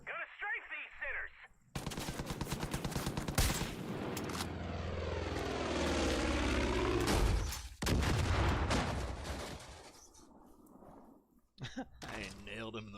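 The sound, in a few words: aircraft strafing gunfire in video game Far Cry 5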